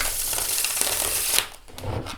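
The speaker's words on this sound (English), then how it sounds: "Just quickly want to show you how the herb crafter shuffles because I love it so much as well." A durable US Games Herbcrafter's tarot deck being shuffled, a dense steady riffle-like rustle of cards that breaks off and resumes more softly, with no talking.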